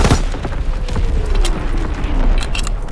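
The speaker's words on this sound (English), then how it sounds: "Sending mortar rounds." Mortar rounds exploding in Call of Duty: WWII, a dense rumbling barrage of booms with a low whistling sweep through the middle, loud and continuous.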